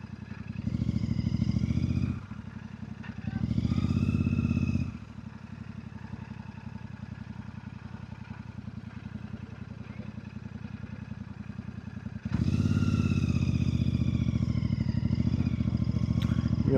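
An air-cooled motorcycle engine runs close by with a steady chugging drone that swells louder in several stretches, as if throttled up, then settles back.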